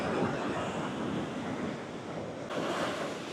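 Ocean waves break on a white sand beach at Uluwatu in Bali, a steady broadband surf roar with wind noise on the microphone and a fresh wash swelling near the end.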